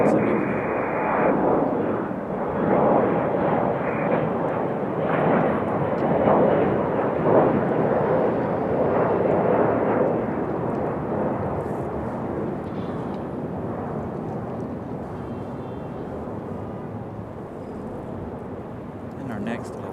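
Embraer E-175 jet taking off from runway 23 right at Raleigh-Durham International, a loud broad engine roar that swells early and slowly fades as it climbs away, with a voice talking over it.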